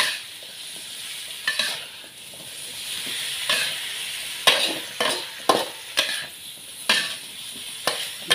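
Vegetables, including carrot and gourd, are stir-fried in a hot pan for a Thai sweet and sour dish, with a steady hiss of sizzling oil and repeated sharp, rhythmic spatula scrapes close by.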